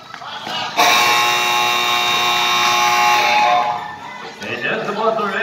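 A long, loud buzzer blares for about three seconds to end the third quarter of a basketball game, then crowd noise and voices follow.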